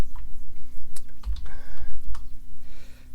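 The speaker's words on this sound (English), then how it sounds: "forgive me because I am not the fastest typer" Keys clatter on a computer keyboard as code is typed, irregular bursts of close, loud clicks with short pauses between them.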